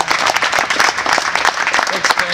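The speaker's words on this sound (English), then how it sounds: "And let's give him a round of applause." Audience applause at a downtown planning and code event, a dense, steady wash of many hands clapping, fairly loud and close, with some voices mixed in throughout.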